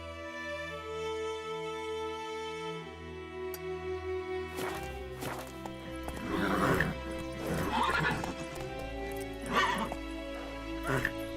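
Geralt's horse Roach from The Witcher 3 whinnies and gallops, with hoofbeats and neighing rising over a steady musical score, moderately close, as a voice speaks briefly.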